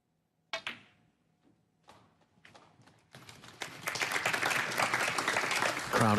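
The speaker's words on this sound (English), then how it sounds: "Crowd acknowledging then that Trump is over the winning line" Snooker crowd at the 2017 final between Judd Trump and Stephen Maguire breaking into applause, starting with a few scattered claps and swelling into sustained, dense clapping from a large audience.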